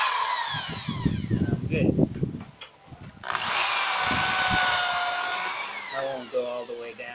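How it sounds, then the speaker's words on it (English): A power drill fitted with a countersink and pre-drill bit whines at steady speed after a short stretch of clattering handling, with a brief spoken phrase partway through. "All I gotta do is stick it in there, turn the drill on,"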